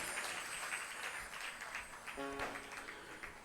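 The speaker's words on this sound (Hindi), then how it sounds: "ताली बजाओगे?" An audience at a Hindu religious discourse claps together in a dense, fairly faint burst that stays steady throughout, with a brief tonal voice-like sound rising partway through.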